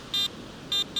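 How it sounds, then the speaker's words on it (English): Garrett AT Max metal detector sounding on a Florida beach: three short high electronic beeps, two matched tones and a quicker final one, clear against a quiet background with no talking. "Hey, we're getting something. This is a real beep."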